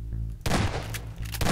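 Gunfire in the video game Garry's Mod, a loud close burst of rapid shots cutting in sharply after a brief low hum and continuing to the end.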